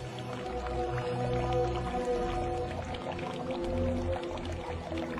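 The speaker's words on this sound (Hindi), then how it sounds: "एक बूढ़ी महिला दिखाई दी जो एक कुएं से पानी निकालकर जमीन पर डाल रही थी" Water drawn from a well splashes and trickles onto the ground in a steady stream of drips and pouring, with a low tonal hum running underneath throughout.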